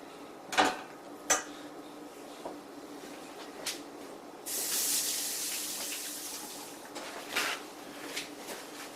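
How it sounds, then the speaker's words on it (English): Water runs from a kitchen tap into a sink for a few seconds while hands are washed, a steady hiss of flow between scattered clinks and knocks of dishes nearby. "So I just washed my hands."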